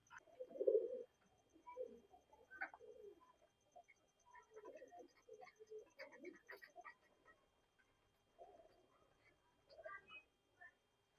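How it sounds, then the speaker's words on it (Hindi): Low, soft cooing of a female pigeon repeats in short rounded bursts with pauses between them, close by and fairly quiet. "ये जी मेरी सुरमे वाली कबूतरी है"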